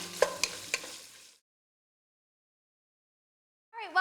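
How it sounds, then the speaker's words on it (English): Bacon sizzles as it fries in a big pot for corn chowder, with spoon clinks against the metal. The hiss is loud for about a second, then everything goes silent, and a voice starts just at the end. "I'm gonna let this bacon finish frying up in my pot here"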